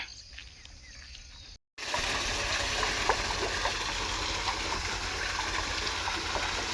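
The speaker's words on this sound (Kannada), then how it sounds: "ನೀರು ಸಣ್ಣ ಆಗ್ಬಿಟ್ಟವೆ" Water flows steadily through a channel in a farm field, a constant broad rushing sound, with faint insect chirps in the open air after a brief cut to silence.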